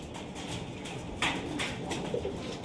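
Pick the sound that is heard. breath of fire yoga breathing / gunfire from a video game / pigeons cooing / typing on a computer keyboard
pigeons cooing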